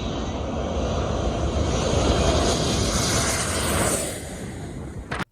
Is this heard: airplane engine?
yes